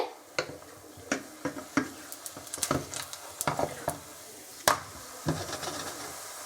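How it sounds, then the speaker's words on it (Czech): A beetroot crepe frying in a pan, soft steady sizzling with scattered small pops and crackles, fairly quiet and close, with no talking. "A smažíme z druhé strany."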